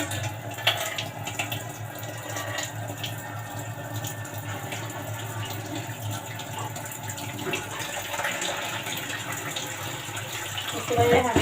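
A cooking pot washed under a running kitchen tap, water streaming steadily and splashing against metal, with a brief clatter at the end and a voice speaking faintly at times.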